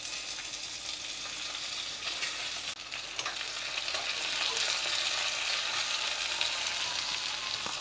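Mustard seeds, cumin, dried red chillies and garlic cloves crackle and sizzle in hot oil for a fenugreek-leaf moong dal tempering, a steady close frying hiss that swells slightly louder midway, with no talking.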